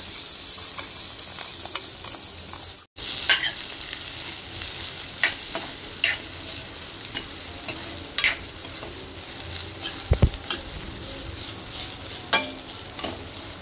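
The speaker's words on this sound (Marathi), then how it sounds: "तुपामध्ये आपण तांदूळ बारीक केलेले परतून घेऊया।" Finely ground rice frying in ghee for Marathi rice kheer, a steady dense sizzle with intermittent scraping clinks of a spoon stirring the pan, continuous and fairly close with no talking.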